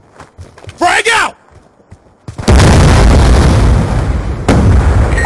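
A frag grenade detonates in Call of Duty: Black Ops 2, a loud sustained booming blast after a short spoken callout and faint footsteps.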